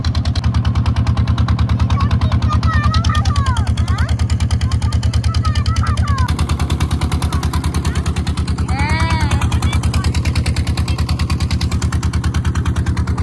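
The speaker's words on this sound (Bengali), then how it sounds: "নৌকা ছেড়ে দিয়েছে, আমরা এখন যাচ্ছি নৌকা করে।" A boat engine chugs in a fast, steady pulse throughout a river ride, loud and close, its beat dropping slightly in pitch partway through, while faint voices and calls rise briefly above it.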